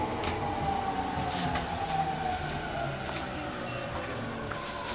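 Steady rumble and rattle of a Tokyo subway train in motion, a continuous moderately loud drone with faint squeals, no talking.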